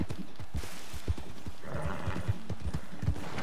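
A horse in the video game Red Dead Redemption 2 trots along with steady, close clip-clop hoofbeats, a brief whinny rising partway through.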